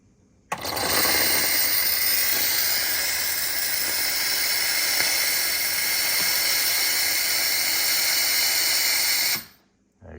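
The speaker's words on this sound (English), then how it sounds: "then it'll end up doing a steam to kind of break up any of the milk that came out of the nozzles for your drink." Terra Kaffe TK-01 coffee machine running its steam cycle to clear milk from the nozzles, a loud, steady hiss that starts abruptly and holds for about nine seconds before cutting off.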